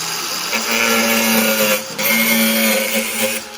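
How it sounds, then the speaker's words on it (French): An angle grinder running steadily at close range, a loud continuous whine with a brief dip in the middle, no talk. "il va chercher la meuleuse"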